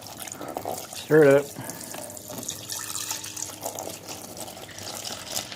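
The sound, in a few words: water poured into a container to soak rusty parts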